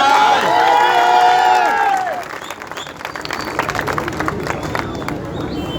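Loud applause and cheering from a crowd at a political gathering, a dense wash of clapping that fades after about two seconds into softer scattered clapping and crowd murmur.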